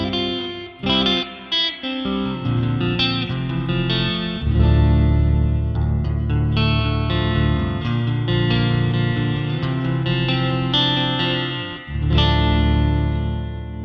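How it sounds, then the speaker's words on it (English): An electric guitar through the BIAS X spring reverb effect plays sustained chords and single notes drenched in a splashy, springy reverb, continuous and fairly loud with no talking. "Let's go for a spring reverb,"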